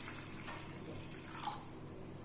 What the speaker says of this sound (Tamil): அதில் வந்து ஒரு 2 செம்பு அளவுக்கு தண்ணி சேர்த்துக்கோங்க.